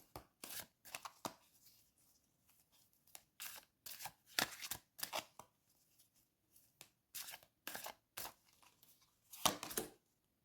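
Tarot cards shuffled in three separate bursts of crisp riffling and flicking, close and fairly quiet, with short pauses between, no talk.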